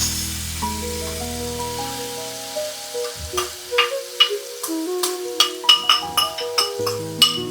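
Green masala for prawns sizzles and spits in a hot pan, with repeated scraping stir strokes over a steady frying hiss and faint tonal music in the background.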